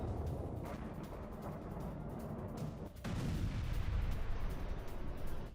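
Distant, muffled booms and rumbling blasts of a rocket attack roll under constant noise, with a heavier impact around the middle.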